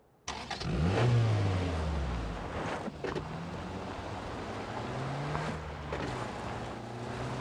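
A car engine starts up and revs in the video game PUBG, loud and close, then settles into a steady driving drone with shifting pitch as the vehicle moves along, no talking.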